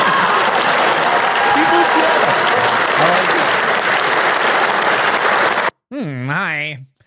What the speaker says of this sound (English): A big round of applause for the Timu version of me,